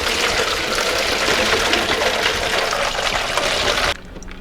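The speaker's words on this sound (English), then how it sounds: "scoop the brine out of the bucket and pour it into this, and I can get nice clean brine in that jug there" Brine for a fermented clear hot sauce pours from a scoop into a jug with a loud, steady gush for about four seconds, then cuts off abruptly.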